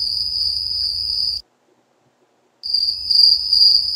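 A cricket chirps as a steady, loud, high-pitched trill, close by and without voices, cutting out completely for about a second before resuming.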